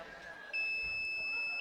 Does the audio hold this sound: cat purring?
no